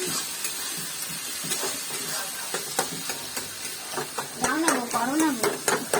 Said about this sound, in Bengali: আর এই সাইডে কুমড়োর তরকারি রান্না হচ্ছে